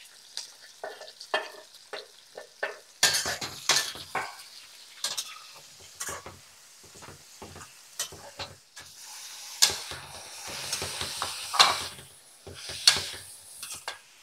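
Onions frying in a pan for mie gomak, with bursts of sizzling crackle and stirring scrapes that rise and fall over about fourteen seconds, close and fairly loud, no voices.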